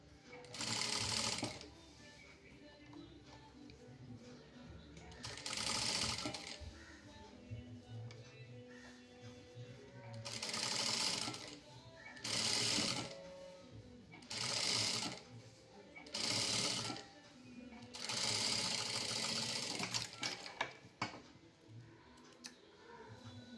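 Sewing machine top-stitching a back panel of a garment after small cuts, in bursts of fast rattling stitching separated by short pauses, close and fairly loud, with faint talk between runs.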